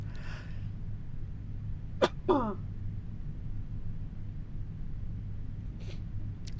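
A single sharp sneeze, preceded by a quick intake of breath, rises out of a quiet room with a low steady hum.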